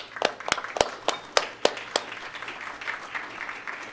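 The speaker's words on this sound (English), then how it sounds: "I think it deserves a second round of applause." Applause at a transit agency board meeting: a few sharp, close claps ring out first, then a softer, wider spread of clapping fills the room and slowly fades.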